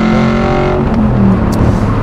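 Modified Vantage racing car accelerating hard in third gear, a loud, steady engine roar from inside the car that holds its pitch as the revs climb, with no talk.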